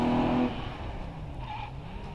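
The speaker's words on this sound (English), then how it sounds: "There goes Jeff Twemlow in the Seiko GT" The Seiko GT race car at the Prescott hillclimb passes with a short loud engine burst that quickly fades into a distant drone.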